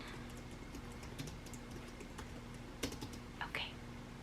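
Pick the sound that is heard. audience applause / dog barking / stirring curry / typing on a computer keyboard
typing on a computer keyboard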